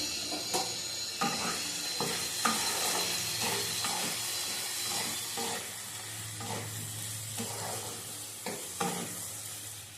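Green and dried chillies sizzle and fry in a pan with garlic paste, with steady hiss and repeated close scrapes and clinks of stirring throughout, no talking.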